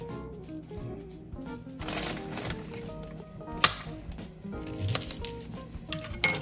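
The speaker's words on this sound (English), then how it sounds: "The best way to do Brussels sprouts is to cut off the end and then cut them in half." Brussels sprouts being trimmed and halved with a knife, a string of quick blade taps and chops on a cutting board, close and moderately soft.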